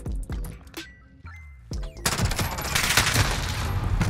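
P90 submachine gun fire in Modern Warfare: a few sharp single shots, then a sustained rapid automatic burst that rattles loud and close to the end.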